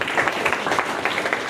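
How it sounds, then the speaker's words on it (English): Short stretch of dense audience clapping at a college hackathon for a team that was called out, even and sustained without speech. "Big round of applause."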